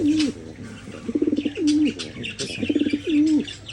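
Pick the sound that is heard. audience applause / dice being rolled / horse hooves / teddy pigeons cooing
teddy pigeons cooing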